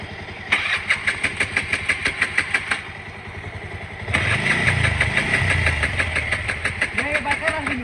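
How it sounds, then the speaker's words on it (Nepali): Honda Dio scooter, push-started at midnight in heavy rain: a run of rhythmic engine pulses as it is pushed, then the engine catches and runs steadily with revving, loud and close, with faint voices. "यो बाइक होइन नि भाइ स्कुटी ठेलेर स्टार्ट गर्दैछ"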